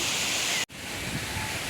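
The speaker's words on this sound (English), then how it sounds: "The waterfall is right there." A steady, dense roar of falling water from a nearby waterfall, broken by one brief dropout before the broadband rush returns at full strength.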